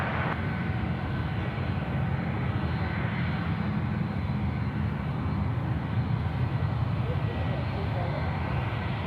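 An airliner going around at Sydney Airport gives a steady, broad engine roar that holds at an even level throughout, distant but constant, with no talk over it.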